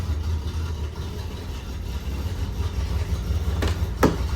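A Datsun 260Z engine idles close by with a steady rumble, a low continuous drone and a couple of brief sharper bursts near the end.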